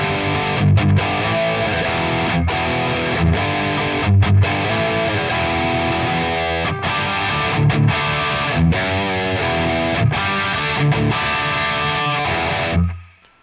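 Electric guitar runs through a NUX MG-30 factory preset with heavy distortion, dense driven chords and riffs played continuously and loud, briefly cut by short pauses before a quick fade at the end.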